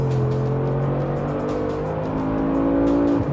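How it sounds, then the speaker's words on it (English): Mercedes AMG 4-litre V8 in a 2019 AMG G63 revving, a deep steady engine drone with rising harmonics, close and loud, no talk. "this one now gets Mercedes AMG 4-litre V8"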